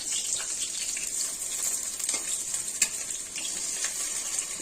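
Pumpkin leaf fritters sizzle and crackle steadily in hot oil in a pan, with a few light scraping taps as they are turned over, close and fairly soft.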